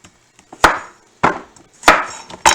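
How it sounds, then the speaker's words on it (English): A knife chops the ends off a yellow squash on a cutting board, giving three or four crisp, close thunks spaced roughly half a second apart in an otherwise quiet kitchen. "chopping the ends off the yellow squash"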